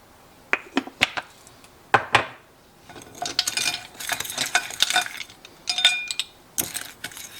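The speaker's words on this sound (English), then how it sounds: "Since these are already dirty, we'll just stir them with the teaspoons" Teaspoons stirring a dessert mixture in a bowl. Sharp metallic clinks come in scattered bursts, then quicker clusters of tapping and scraping, close and fairly quiet.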